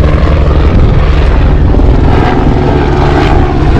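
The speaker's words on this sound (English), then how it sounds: "There is a helicopter running, flying over me." Helicopter passing overhead outdoors, a loud, steady rotor and engine roar that fills the whole clip with broad noise and slight swells, no speech over it.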